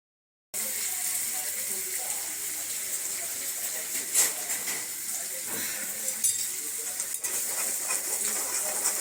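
Moringa drumsticks boil in a pot of water with turmeric and salt, giving a steady close hiss and bubbling that runs unbroken with faint clinks.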